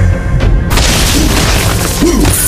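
Explosion of a turret being destroyed in the Mobile Legends video game, a loud, sustained booming blast that fills the whole moment with no speech over it.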